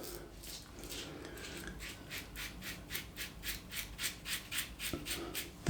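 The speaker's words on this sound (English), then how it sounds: "blade just slicing them down" A 1958 Gillette Fatboy safety razor cutting stubble with repeated short strokes, each a soft crisp scraping rasp in a steady rhythm, close up and fairly quiet, with no talk.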